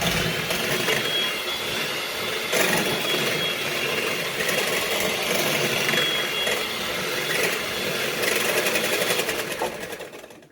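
An electric mixer whirs steadily through chocolate cake batter, a continuous close motor drone running unbroken for about ten seconds before easing off at the end.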